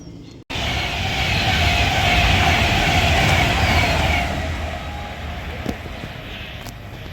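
A Class 390 electric train roars through Lichfield Trent Valley station, a loud sustained rushing whoosh that builds quickly and gradually fades as it passes.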